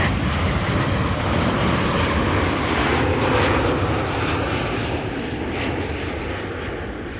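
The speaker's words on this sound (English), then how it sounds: "And Transavia arriving from Faro up next" A Transavia airliner inbound from Faro roars steadily at Schiphol, a loud broadband jet rumble holding across the whole stretch and easing slightly toward the end, with no voices.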